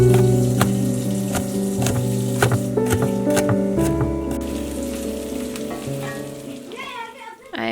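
Roughly chopped fresh garlic sizzles in a hot frying pan, a steady crackling hiss with scattered pops under soft background music.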